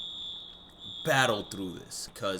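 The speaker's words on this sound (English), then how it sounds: "the fire alarm just went off where I live." A home smoke or fire alarm beeps steadily at a high pitch in the background while someone talks over it during an MLB The Show 19 gaming session.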